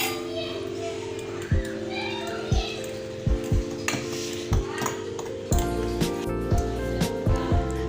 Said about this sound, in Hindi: एक हिस्से में अब हम कोको पाउडर डाल देंगे और इसे अच्छी तरह से मिक्स करेंगे